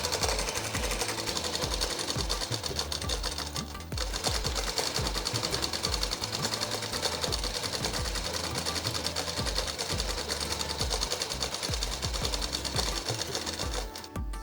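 A sewing machine stitches a half-inch double-folded hem on a plain frock, whirring loudly and continuously up close with a brief dip near the start.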